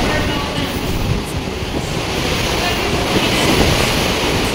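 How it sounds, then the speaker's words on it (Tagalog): Strong wind roars across an outdoor promenade deck of a cruise ship in Alaska, a loud, constant buffeting rush of air against the microphone that holds steady throughout. "Hangin."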